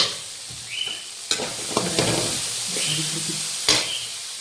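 Rasam boiling beside vegetables cooking in a pan, with a sizzling, bubbling hiss broken by a few sharp clinks and stirring scrapes, fairly close and continuous throughout.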